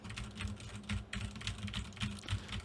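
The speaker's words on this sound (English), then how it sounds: "it does pick up a little. So you will hear that." Keys on a RedDragon Yama K550 mechanical keyboard clatter in quick, irregular bursts of typing, close but fairly quiet, with no voices.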